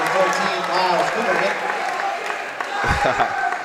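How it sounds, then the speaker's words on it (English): A home crowd at a boys varsity high school basketball game between Ardsley and Mamaroneck cheers and claps steadily, loud and dense, with a commentator talking over it and a sharp thump near the end. "You see the Mamaroneck crowd get hyped"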